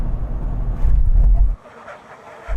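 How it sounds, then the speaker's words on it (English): A Land Rover Defender on knobbly mud tyres brakes hard from 70 mph during a brake test, loud close road and engine rumble dropping suddenly to a quieter rolling noise as it slows, with no voices. "let's do a brake test. 70 miles an hour."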